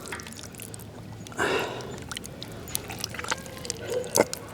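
Pork intestines being turned and washed in water, heard as a brief splashing surge followed by faint trickles and small drips in a quiet setting, close by.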